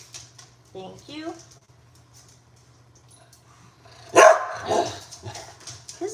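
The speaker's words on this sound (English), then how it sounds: "His bark is just so painful in my ears." A dog gives a couple of short, moderately close barks early on in a quiet room, followed by a louder burst of sound later in the clip.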